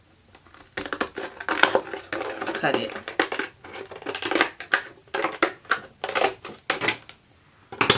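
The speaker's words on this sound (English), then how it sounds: "now I think I can go with my scissors and just cut" Close scissors snipping and crunching through paper in irregular bursts, with a brief spoken word.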